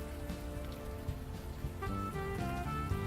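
Steady rain falls in the video game Unavowed, a continuous soft patter that carries through the whole stretch under a layer of game music.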